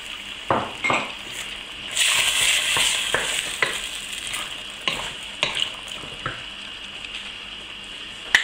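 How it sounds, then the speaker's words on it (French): Roughly diced tomatoes cooking in a thickened sauce in a pan for a rabbit with olives dish, a soft bubbling sizzle broken by repeated scrapes and knocks of a spoon stirring against the pan. "je vais mettre mes tomates que j'ai grossièrement coupées en petits cubes"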